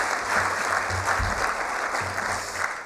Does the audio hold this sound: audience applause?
yes